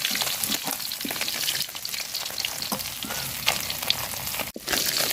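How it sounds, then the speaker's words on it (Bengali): Small bata fish sizzling and crackling in hot oil in a pan, a dense steady spattering with occasional louder pops and stirring scrapes, heard close up. "তো মাছ বাজা নিচ্ছি সব পররা করে"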